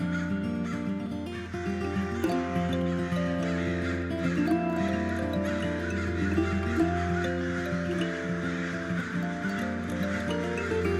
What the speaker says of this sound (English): There's a crow convergence in the maple tree. They're calling up a cacophony